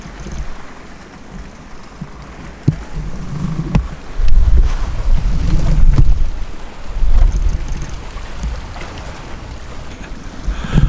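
A small boat out on Raystown Lake, its engine rumbling low beneath steady wind buffeting the microphone and water slapping against the hull, with surges of louder rushing noise, no voices.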